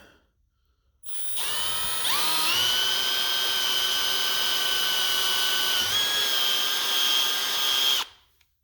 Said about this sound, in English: We're gonna drill a hole right there